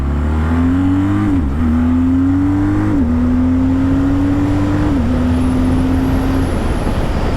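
A BMW R12 G/S motorcycle cruises in sixth gear at about 70 to 75 mph, its engine a loud, steady drone around 3,800 rpm that dips briefly at a few moments, all under heavy continuous wind roar.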